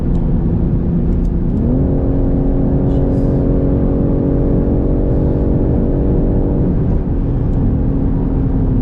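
The latest BMW M3 drives at low speed from inside the cabin, its engine a loud, steady low drone that rises in pitch, holds, then drops back, with road rumble underneath.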